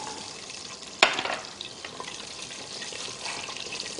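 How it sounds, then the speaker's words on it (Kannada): Small sambar onions tipped into a hot pot for drumstick sambar, a sharp clatter as they land, then a steady frying sizzle and bubbling, with no voices. "ಈಗ ನೋಡಿ ಒಂದು ನೂರು ಗ್ರಾಮಷ್ಟು ಸಾಂಬಾರು ಈರುಳ್ಳಿ ತೊಗೊಂಡು ಇದಕ್ಕೆ ಹಾಕ್ತಾ ಇದ್ದೀನಿ"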